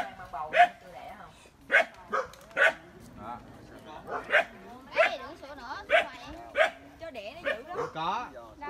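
A Phu Quoc Ridgeback dog barks repeatedly in a steady series of sharp, fairly close barks, with people talking in Vietnamese between and under them.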